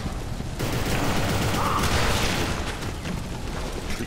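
Dense, continuous gunfire and booming in the video game Inversion fills nearly the whole stretch after a sudden onset, a loud rough wall of shots and blasts with no clear gaps.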